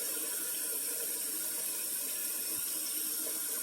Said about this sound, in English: I'm going to start by filling up my stock pot to get the noodles going